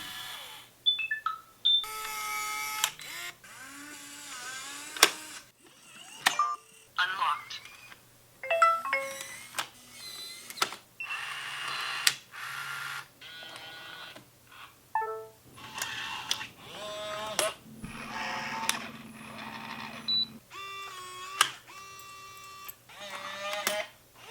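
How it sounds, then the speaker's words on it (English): Smart locks make a series of short electronic beeps and chimes mixed with brief whirring motor bursts, repeating in separate bursts with quiet gaps between them. "The little beeps and announcements each lock makes when it does its thing"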